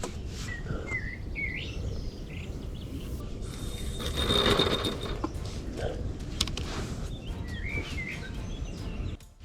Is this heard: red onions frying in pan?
no